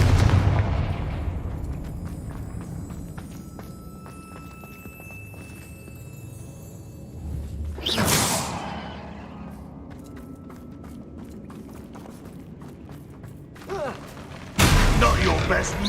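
A Confringo blasting spell explodes in the Hogwarts Legacy video game: two loud, sudden bursts, one in the middle and a heavier one near the end, rise over a low bed of game ambience.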